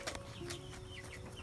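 Chickens cluck softly in short bursts at close range, with a few higher chirps mixed in over a faint steady hum.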